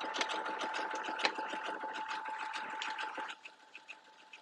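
An embroidery machine sews the outer stitch on a hoodie with a fast, steady mechanical whir and ticking needle strikes, then slows into a few separate clicks near the end.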